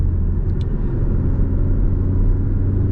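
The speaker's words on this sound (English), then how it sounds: "Sound, I rate this car and the exhaust a 9 out of 10." A 2022 Porsche 718 Cayman base with PDK transmission, its engine and exhaust producing a deep, steady, loud rumble heard from close by, low and continuous without clear revving.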